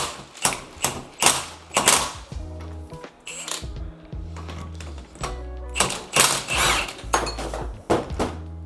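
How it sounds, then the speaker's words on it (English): A cordless Milwaukee M18 impact wrench with a 7/8 inch socket hammers at an alternator pulley nut in loud rattling bursts, stopping and starting several times with pauses between, and no talk. "we're just going to use this Milwaukee M18, and we're going to go ahead and show you with this tool how easy it is."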